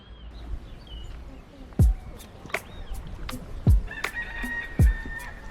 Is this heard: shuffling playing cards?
no